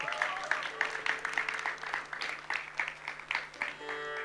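An audience at a music program during a world festival week in Cabella, Italy, gives steady, close applause with many overlapping hands clapping throughout.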